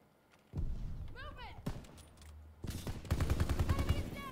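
Shots ring out in Call of Duty: WWII, a World War II first-person shooter, first a few separate reports and then a denser burst of rapid fire, all under a speaking voice.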